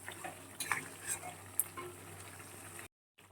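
Chicken curry fries quietly in a pan with a soft, continuous sizzle. A few light clinks and scrapes of a stirring utensil break through before the sound cuts off abruptly.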